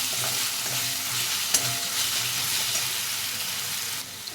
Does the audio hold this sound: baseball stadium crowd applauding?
no